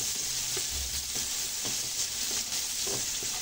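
Garlic and onion sautéing in a pan for chop suey with dried shrimp and chicken liver, a steady close sizzle with soft scraping stirs every so often and no talking.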